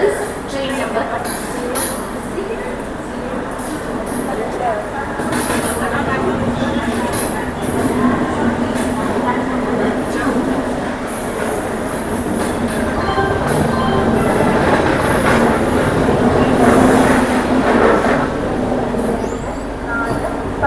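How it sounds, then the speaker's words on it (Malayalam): The Kannur–Yeshwantpur Express pulls out of Kozhikode station with a broad rumble of moving carriages and rolling wheels, while station and crowd noise sit under a nearby voice talking throughout. "കോഴിക്കോട് സ്റ്റേഷനിൽ വണ്ടി എടുത്തിരിക്കുകയാണ്"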